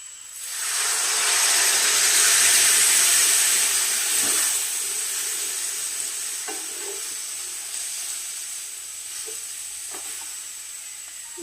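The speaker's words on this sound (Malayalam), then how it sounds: "ഇനി അതിലേക്ക് കുറച്ച് വിനാഗിരി ഒഴിച്ച് കൊടുക്കാം" Vinegar poured into a hot pan over softened nutmeg for pickle, setting off a loud hissing sizzle that slowly fades, with a few light stirring clinks afterward.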